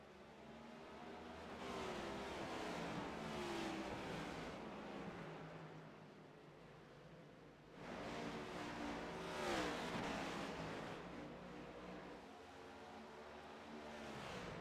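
Race cars accelerating at Watkins Glen in a racing video game, engines surging in two long waves of revving, building and fading, fairly steady and unbroken with no talk.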